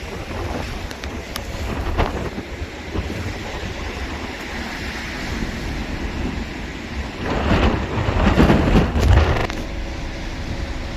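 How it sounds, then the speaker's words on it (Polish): Strong wind roars over a boat at sea on a choppy Baltic day with bigger waves, a steady heavy gusting rush with creaks and buffeting peaks building louder toward the end, no talk. "Wieje dosyć mocno."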